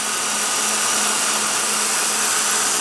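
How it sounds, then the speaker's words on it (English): A 1996 Ford Taurus GL's 3.0-liter V6 idles steadily, a loud, constant engine drone with a faint tonal hum, heard alone without any talking. "Now under the hood you have a 3-liter V6."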